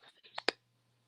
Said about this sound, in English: It's kind of like a clicking or something.